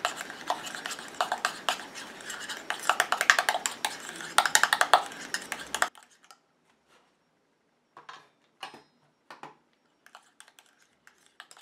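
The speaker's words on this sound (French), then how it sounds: "Je mélange." A spoon stirs a homemade face cream mixture in a small bowl, rapid clinking and scraping taps for several seconds, then a few sparse, quieter clicks after a pause.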